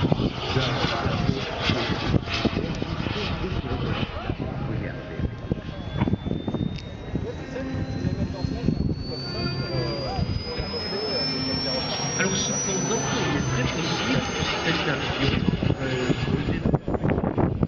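Radio-controlled scale model jet aircraft flying at the La Ferté-Alais air show in 2011, a sustained loud engine whine rising steadily in pitch as it passes, over crowd noise and commentary.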